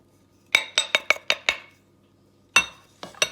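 A utensil clinks sharply against a bowl while sugar, allspice and cinnamon are mixed, about six quick, evenly spaced knocks, a pause, then three more, close and crisp in a quiet room.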